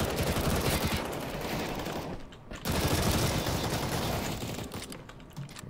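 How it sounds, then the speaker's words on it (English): Rapid machine gun fire in a first-person shooter video game, dense continuous bursts with a short pause midway, loud and crackling, mixed with keyboard clicks. "Oh, I got a machine gun."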